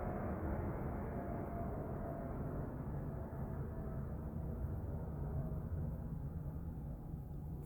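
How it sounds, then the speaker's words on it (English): A continuous low engine rumble of a plane overhead, steady and moderately loud, fading only slightly over several seconds, with no talking. "Damn, that plane must be flying low."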